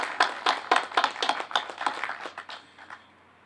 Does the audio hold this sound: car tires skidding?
no